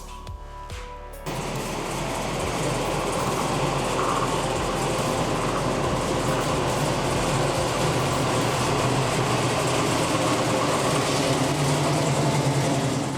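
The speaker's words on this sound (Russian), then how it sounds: "мотор работает, тачка завелась" A steady, loud Chevrolet Chevelle SS engine rumble kicks in after a brief quiet moment and idles evenly without pause to the end, with no talking.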